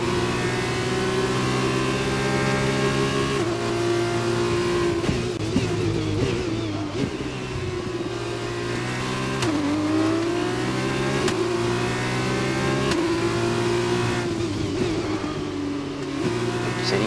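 F2 race car engines in the F1 2021 video game scream and rev continuously, climbing and dropping through gear changes as several cars run close together into the first turn.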